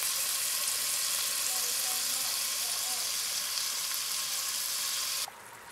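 Meat browning in a hot pan, for Southern fried cabbage, produces a loud, even, continuous sizzle heard close up that drops off abruptly just before the end.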